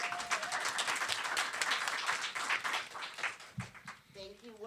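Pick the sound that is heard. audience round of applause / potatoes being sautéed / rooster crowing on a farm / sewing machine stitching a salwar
audience round of applause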